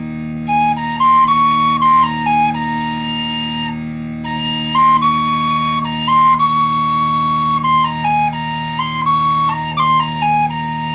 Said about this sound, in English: So I like that C natural, seems to speak nicely on this whistle